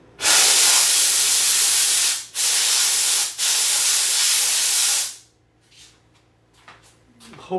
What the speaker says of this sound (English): Maybe I better hit that little area right there with steam again.